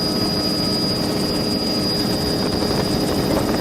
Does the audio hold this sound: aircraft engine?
yes